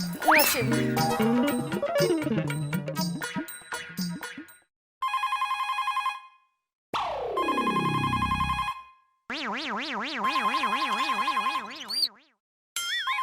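Electronic telephone ringtones play loudly in repeated bursts, with bright warbling tones, a descending sweep and springy boing-like effects between short silences.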